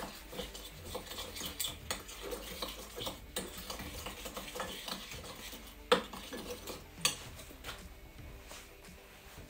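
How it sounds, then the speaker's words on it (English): A spoon scrapes and clinks through a sweet potato dish in a pot just after lime juice goes in, giving quiet uneven stirring taps with a few sharper knocks and no talking. "I'll give it a good stir."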